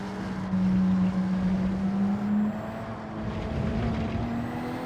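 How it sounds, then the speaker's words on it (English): The Pikachu-liveried Porsche race car in Gran Turismo 7 runs on a wet Circuit de la Sarthe, its engine a steady droning tone that climbs gradually in pitch, moderately loud, with no voices. "There's the Pikachu Porsche going through it."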